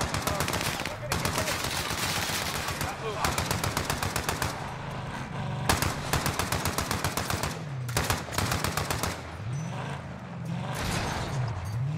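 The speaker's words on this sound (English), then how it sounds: "I'm sorry, I'm getting shot at." Rapid bursts of automatic gunfire in Call of Duty: Warzone, close and loud, in repeated clattering volleys broken by short pauses across the whole stretch.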